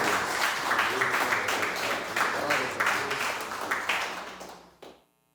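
A church congregation applauds during a worship service, with dense, loud, continuous clapping from many hands that stops abruptly near the end.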